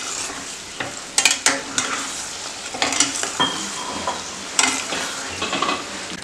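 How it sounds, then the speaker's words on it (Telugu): Onion, tomato, ginger and garlic paste is stirred into a frying pan for a potato kurma, with a spoon scraping and clinking in bursts over a steady close sizzle. "ఇదంతా ఒకసారి మనం బాగా మిక్స్ చేసేసుకుందాం"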